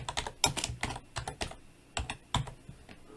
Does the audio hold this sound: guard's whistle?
no